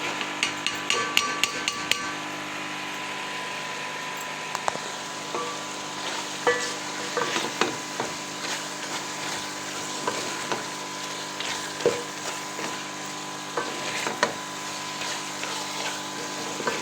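Drained mixed vegetables tumble into fried masala in a pan, giving a steady sizzle and frying hiss with sharp metallic clanks of a spoon against the pan, no voices.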